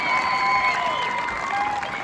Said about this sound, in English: you guys know Hans, give him a round of applause.